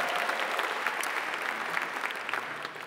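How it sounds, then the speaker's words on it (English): An awards show audience applauds steadily, a dense wash of many hands clapping that holds at an even level throughout. "And I give yourselves a big round of applause for winning."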